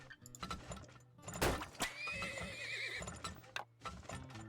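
A horse in the oil-drilling video game Turmoil gives a loud, close whinny that rises and falls, with clip-clop hooves and small game clicks around it.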